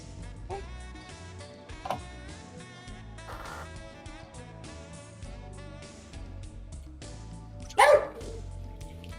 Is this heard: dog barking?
yes